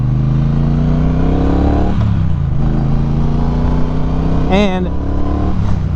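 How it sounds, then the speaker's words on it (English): A 2018 Triumph Bonneville Speedmaster's 1200cc parallel-twin engine runs loudly on a test ride, holding a steady drone, easing off and then revving up in a quick rising sweep, with wind noise and a rider talking over it. "this parallel twin 1200cc engine feels really sporty"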